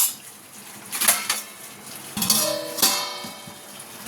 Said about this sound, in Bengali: এবার আমি এটাকে ঢাকা দিয়ে দেবো।